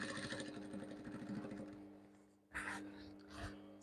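A sewing machine stitching baggy elastic-waist trousers runs with a steady mechanical whir for the first couple of seconds, then fades into low hum with a few brief louder bursts of handling noise near the end.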